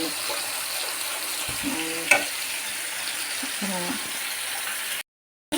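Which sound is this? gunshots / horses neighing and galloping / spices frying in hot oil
spices frying in hot oil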